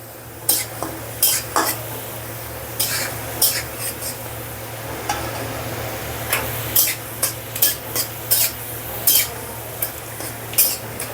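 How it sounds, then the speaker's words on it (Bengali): Dried red chillies sizzle in a pan for dal while a utensil stirs and scrapes against the metal in repeated, irregular clinks over a steady low frying hiss. "এবার দিয়ে দিব কয়েকটা শুকনো ঝাল, ডালে ফ্লেভার আসার জন্য।"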